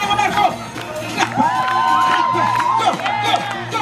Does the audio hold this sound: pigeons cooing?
no